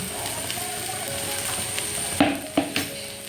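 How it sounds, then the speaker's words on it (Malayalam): Leftover puttu mixed with egg being stirred in a hot pan, with a soft steady sizzle and a few sharp spatula scrapes near the end. "നല്ലോണം ഇളക്കി കൂട്ടിയെടുക്കണം."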